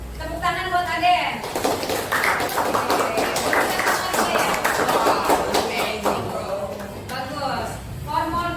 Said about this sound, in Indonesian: Tepuk tangan buat Aden.